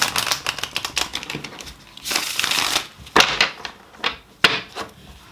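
Tarot cards being shuffled by hand, several quick riffling and flicking bursts in irregular rhythm, close and fairly loud, with no talking.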